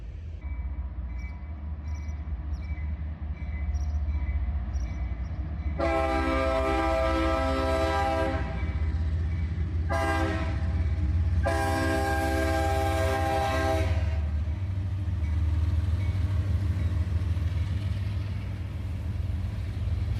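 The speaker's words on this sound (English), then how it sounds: "a cut of tank cars brings up the tail end of this northbound train." A northbound freight train with tank cars at its tail rolls past with a steady low rumble, while a loud horn sounds in several long blasts midway.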